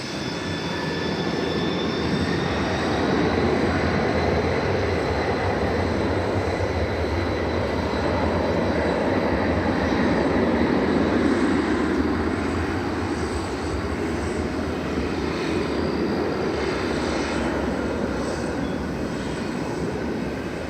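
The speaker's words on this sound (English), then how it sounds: "in time for what it looks like it's going to be a takeoff here on 18 left of this magnificent MD-11." An MD-11 airliner taking off from runway 18 left at DFW Airport roars steadily for the whole stretch, a broad, loud jet rumble with a faint whine on top and no voices.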